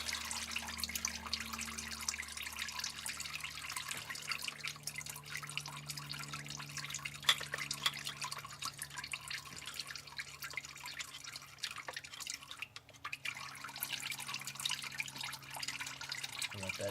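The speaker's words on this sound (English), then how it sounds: "you're going to get more fluid out of the filter" Transmission fluid from a Dodge Dakota filter drips and trickles steadily for a long stretch, a faint continuous patter with no talk.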